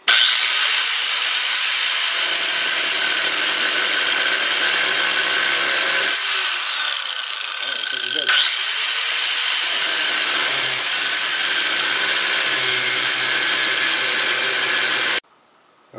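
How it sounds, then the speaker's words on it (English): A power tool cuts through a metal gas block in a DIY workshop, a loud continuous high grinding whine with a short shift in pitch midway, running steadily and then stopping abruptly near the end. "since I have all kinds of power tools at my disposal, I'm just going to hack this off where I feel comfortable."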